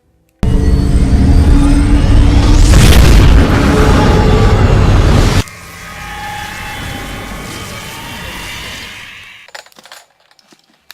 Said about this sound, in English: That was a warning shot.